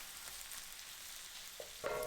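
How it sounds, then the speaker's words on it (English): Dried chipped beef sautes in butter in a pan over medium-high heat, giving a steady soft sizzle throughout, with a brief clink or stir near the end. No one speaks. "Cook the chip beef for about 1 to 2 minutes over medium to high heat"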